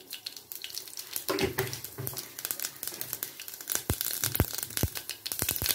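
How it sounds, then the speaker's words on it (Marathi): Mustard seeds in hot oil in a kadhai: sharp, irregular pops and crackles burst over a soft frying hiss, close by, growing busier toward the end; no voices. "मोहरी तडतडली आहे मोहरी."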